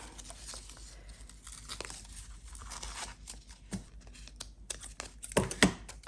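A narrow strip of paper from a snippet roll is torn by hand for a junk journal embellishment, with quiet crinkling and rustling and two sharper rips near the end.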